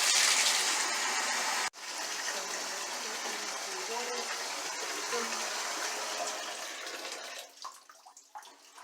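Water gushes steadily from a tap into a mop bucket, a loud continuous rushing fill with a brief clunk near the start, then tapering and sputtering toward the end.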